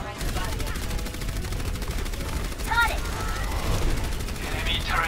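An enemy turret in a video game fires continuous rapid bursts at a loud, steady level throughout, with a brief voice cutting in over the gunfire partway through.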